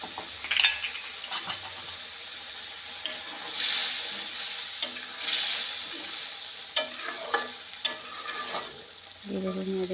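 Ghee sizzles as a prawn malai curry is stirred, with repeated scraping strokes and clinks of a spoon against the pan over a steady close frying hiss; no one speaks.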